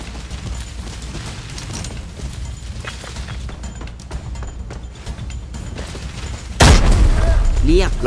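Low rumbling sounds and scattered bangs in the shooter game Arena Breakout, then a sudden loud explosion near the end that stays heavy and booming.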